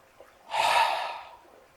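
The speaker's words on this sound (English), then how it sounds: "a physiological sigh" A single soft, close breath is heard as a quick airy rush of air in the pattern of a physiological sigh, two nose inhales followed by a mouth exhale, set against near silence.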